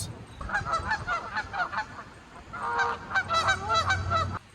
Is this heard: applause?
no